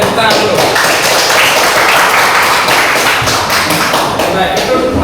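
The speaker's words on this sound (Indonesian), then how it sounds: "Oke, tepuk tangan dulu." Students in a classroom break into dense, loud group clapping that fills the whole stretch, with talk mixed in beneath the steady patter of many hands.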